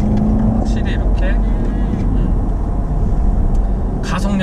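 A Jaguar E-Pace accelerates in normal mode, its engine giving a steady, loud low drone with road noise from inside the cabin, while someone talks over it throughout.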